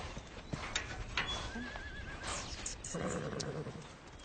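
At a horse rescue ranch, a horse whinnies while hooves clip-clop across the ground, mixed with other ranch and barnyard sounds at moderate distance.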